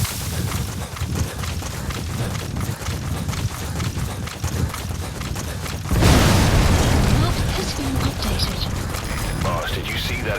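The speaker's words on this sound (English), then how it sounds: "Boss, did you see that explosion?" A large in-game explosion in Metal Gear Solid V: The Phantom Pain hits abruptly partway through as a loud broadband boom with a lingering rumble, set against ongoing game ambience and footsteps.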